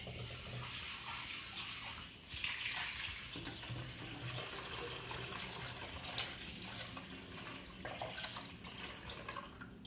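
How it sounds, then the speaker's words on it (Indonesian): Coconut milk pouring into a pot of red snapper fish head curry, a soft continuous liquid splashing and trickling, quiet and close, with small spoon clinks over a gentle background. "masukkan santan."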